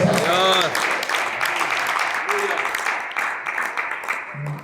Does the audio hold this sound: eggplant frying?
no